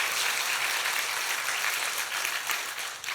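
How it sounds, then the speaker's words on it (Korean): A church congregation applauds during a Sunday sermon: dense, steady clapping from many hands fills the space and continues without pause, easing slightly toward the end. "이건 박수 한번 쳐도 괜찮아"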